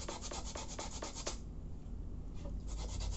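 Wet sandpaper rubs rust off a small cast-iron cauldron in quick, rhythmic back-and-forth strokes. A short pause follows, then the scrubbing resumes, close and fairly quiet.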